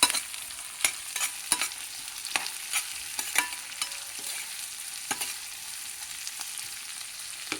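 Potatoes fry and get stirred in a pan while a vegetable curry of ridge gourd or cauliflower is cooked. A steady sizzle runs throughout, broken by frequent scraping clicks of the stirring spoon, with no talk.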